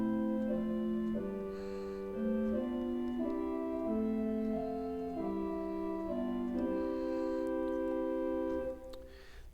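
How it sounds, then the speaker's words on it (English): Pipe organ playing a Bourdon stop of the flute family, soft and mellow sustained chords moving in a slow sequence, fairly quiet and alone with no voices. "So here's a Bourdon, which is a flute family."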